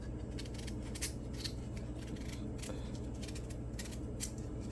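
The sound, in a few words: knife peeling a turnip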